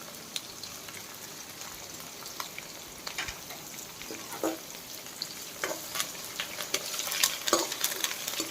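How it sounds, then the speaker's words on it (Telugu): Onions with dried and green chilies and carrots sizzle and fry in a pan, a steady low hiss with occasional soft pops and spatters, fairly quiet. "మనం కోసుకుని ఉంచుకొని ఉల్లిపాయలని, ఎండుమిర్చిని, పచ్చిమిర్చిని అన్నీ యాడ్ చేసేయాలి"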